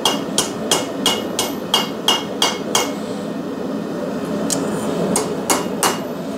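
Hammer strikes on a hot steel pan being forged, a steady run of sharp metallic blows, a short pause, then another quick series, close and ringing over a low background hum.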